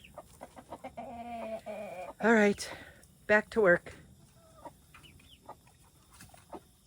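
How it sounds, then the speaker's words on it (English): Chickens in a backyard vegetable garden cluck in scattered short calls, with a few louder drawn-out squawks, close by; a person speaks briefly among them. "the other one is right there behind that black and white chicken"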